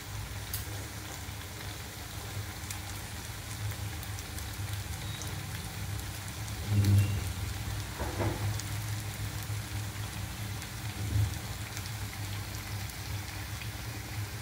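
Sabudana vadas, sago fritters, fry in hot oil with a steady, even crackling sizzle throughout and a few slightly louder pops along the way.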